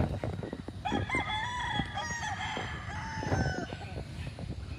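A rooster crows repeatedly among free-range chickens on a farm in the Philippines, its rising and falling calls standing out over a steady, noisy outdoor background.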